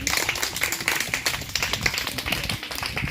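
A church congregation at an evangelisation gathering claps in steady rhythmic unison to acclaim Jesus, the sharp claps repeating quickly and evenly over a busy background of crowd noise.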